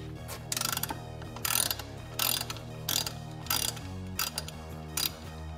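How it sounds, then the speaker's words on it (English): A 1/2-inch ratchet works a rear axle fill plug on a classic Mustang, giving several bursts of quick clicking, close and fairly loud, separated by short pauses with no voices. "All you need is a 1/2-inch ratchet,"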